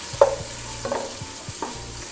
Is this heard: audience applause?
no